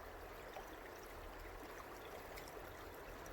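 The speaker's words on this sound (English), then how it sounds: "just wanted to show you the cool crystal clear river, creek, stream, whatever it may be" A crystal clear creek flows in a steady, faint broadband rush, continuous and even, with no voices over it.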